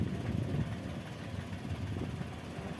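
A Toyota Wigo's engine runs in drive with the wheel removed, its low, steady hum and rumble carrying a broad noisy layer, fairly constant and moderately quiet throughout.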